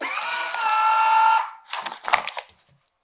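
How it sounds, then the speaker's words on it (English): Vacuum sealer pulling air from a bag of frozen onion pieces, a loud steady mechanical hum for about a second and a half, then a few sharp rustling and clicking bursts as the bag settles. "Bag down, and then we'll vacuum pack it."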